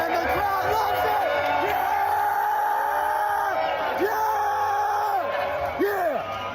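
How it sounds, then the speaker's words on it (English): A loud, dense crowd at a Clippers basketball game cheers, yells and whoops continuously, with excited voices and shouts rising above the roar throughout. "the crowd loves it!"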